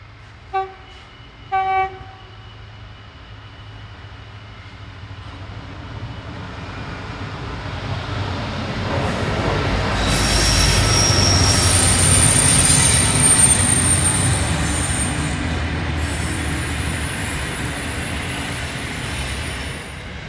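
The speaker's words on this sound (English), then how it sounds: "a trio of new EMD GWB class roll through the platform at Mount" Three new EMD GWB class diesel locomotives roll through Mount Lofty Station in the Adelaide Hills. Two short tones come first, then a deep engine rumble and wheel noise swell and stay loud, with a high metallic squeal near the peak.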